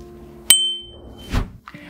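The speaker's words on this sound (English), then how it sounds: "and of course, the Dutch bell." A Dutch bell on a Gazelle Eclipse bicycle gives one sharp ring that decays slowly, followed by a softer thump and a faint knock, heard close with no talk.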